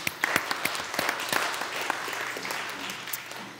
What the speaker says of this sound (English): I want a big round of applause for our panelists, please.